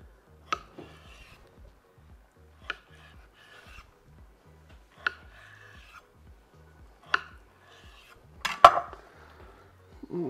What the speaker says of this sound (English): Now I'm gonna cut them into portions.